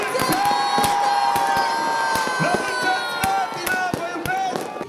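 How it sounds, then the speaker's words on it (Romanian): Fireworks burst in sharp, repeated cracks over a large cheering New Year's Eve crowd in Slatina, close and loud, with whistling trails and shouting throughout. "totul sub un spectaculos foc de artificii"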